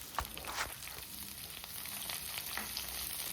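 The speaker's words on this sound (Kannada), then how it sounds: "ಈರುಳ್ಳಿನ ಹಾಕ್ಬಿಟ್ಟು ಫ್ರೈ ಮಾಡ್ಕೊಳ್ಳೋಣ." Long-sliced onions fry in oil with curry leaves for a brinjal ennegayi curry, making a soft, continuous sizzle broken by occasional light stirring clicks.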